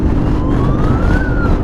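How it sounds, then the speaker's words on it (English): An ambulance siren wails on the road, a single rising and falling tone heard under heavy roar of a BMW M1000RR motorcycle ride and wind noise. "It's an ambulance."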